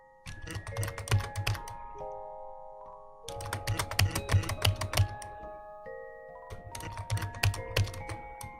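A computer keyboard is hammered hard during Undertale gameplay, with rapid clattering key strikes in three dense bursts separated by short pauses, close and clear with no talking.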